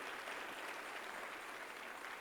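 A church congregation at a worship service applauds in a steady, even wash of clapping that sounds distant and fairly faint throughout.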